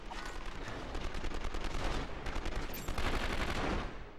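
A gun in 24: The Game fires a steady, rapid stream of close shots, continuous bursts with a brief pause before the shooting resumes.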